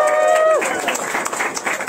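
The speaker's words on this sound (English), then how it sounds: "Let's give Steve and Christina a round of applause." A sustained tone fades out, then scattered hand claps break out and continue unevenly, like a small group starting to applaud at a political campaign event in Nashua, New Hampshire.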